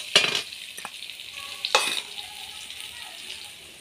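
Cumin seeds and garlic fry in hot oil for a rural Odia kanji made from leftover rice, with two sharp sizzling bursts as ingredients hit the pan, then a steady close crackle and faint clinks of stirring.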